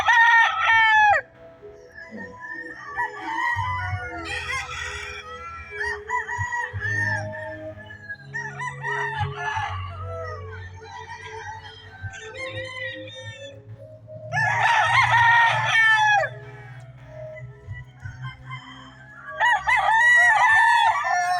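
Gamecock roosters at a gamefowl farm crow repeatedly, several clear cock-a-doodle-doo calls spaced across the stretch, some close and loud, over low background rumble and faint clucking.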